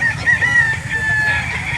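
A Hatch Gray gamecock, seven months old, crows loudly and close at a rooster market in Calauan, Laguna, one drawn-out call over rustling background noise.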